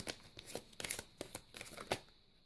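Tarot cards being cut and handled at a reading table, giving a string of short, crisp papery slaps and riffles at close range, with no voices.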